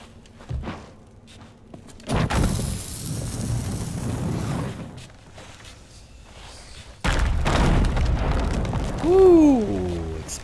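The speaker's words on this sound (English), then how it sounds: "Explosion." Explosions in the pirate video game Sea of Thieves, heard as heavy booming thuds: one at about two seconds that rumbles on, and a second loud blast near seven seconds, followed by a creaking, sliding tonal sound.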